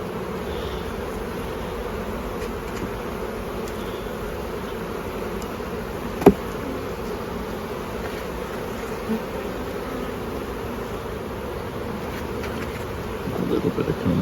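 Honey bees drone steadily at an open hive during a honey harvest, a continuous low buzz throughout with one sharp tap partway through and rustling toward the end.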